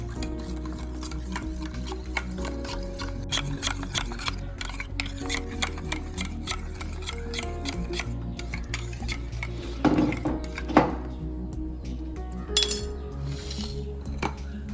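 Spoon stirring ground pepper into a chicken nugget mixture in a bowl, giving repeated close clinks and scrapes against the bowl in a steady rhythm, with no talking.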